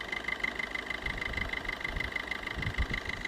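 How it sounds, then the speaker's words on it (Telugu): The diesel engine of a Maruti Swift ZDI idles with a low, even throb and faint knocking, heard quietly and close with a steady hum. "ఇంజన్ బీటింగ్ మాత్రం చాలా పర్ఫెక్ట్ ఉందండి"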